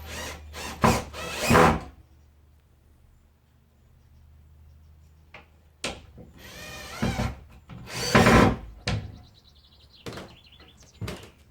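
Bolts and hasps go onto a polytunnel door in bursts of close, loud drilling and clattering tool work, broken by quieter pauses of handling, with no talking.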